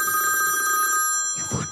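A telephone rings loudly with a bright electronic trill that lasts about a second and then cuts off, followed by a short voice.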